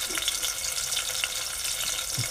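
Tomato and green chili sizzle faintly in hot oil in a pan, a soft crackling hiss with a few small pops and a brief clatter near the end.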